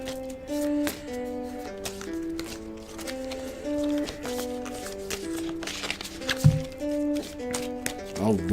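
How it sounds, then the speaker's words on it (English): A deck of cards is shuffled with soft riffling taps and flicks over gentle background music. "I just want to make sure they're shuffled up"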